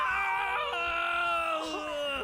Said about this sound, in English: The brothers collapse and scream.